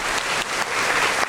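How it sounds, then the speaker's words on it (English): Audience at a school district governing board meeting applauding an elementary school student, a brief, full burst of clapping from a crowd. "let's give him a round of applause"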